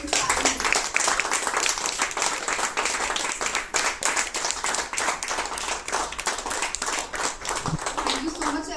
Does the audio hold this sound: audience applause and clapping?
yes